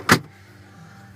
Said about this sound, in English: So you can unlock the trunk there.